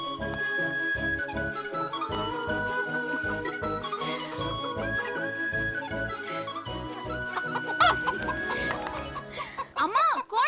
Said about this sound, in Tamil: அம்மா, கோழி பறந்துருச்சுமா.